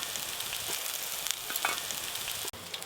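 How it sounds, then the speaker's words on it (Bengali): Drumstick flower fritters fry in hot oil with a steady, close bubbling sizzle and occasional sharp crackles, cut short by a brief pause near the end. "প্রথমবারে সজনে ফুলের বড়া ভাজা হয়ে গেল।"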